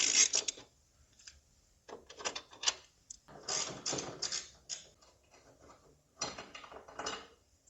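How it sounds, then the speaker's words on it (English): A ratchet wrench loosens E18 Torx strut brace bolts on a BMW 340i, producing short bursts of rapid clicking separated by brief pauses, close and fairly loud. "Now these are E18s, so loosen up these bolts."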